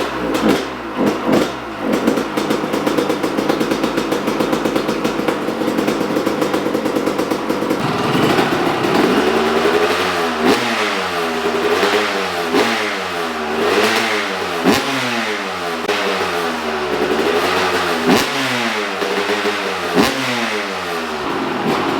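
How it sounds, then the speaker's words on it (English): A 2003 Honda CR250 two-stroke motocross bike with a Lectron Pro 38 carburetor sputters to life on a cold start, then settles into a loud, close engine note with repeated rising and falling blips of the throttle. "the Lectron bike fired right up at the fourth kick"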